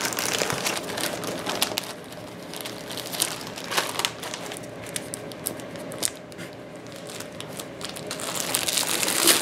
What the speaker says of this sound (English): And I'm going to add what I just cut to the bag.